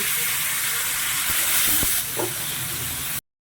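Cabbage frying in oil with onions: steady sizzle with oil hissing, a few clinks and stirring knocks partway through, then it cuts off abruptly.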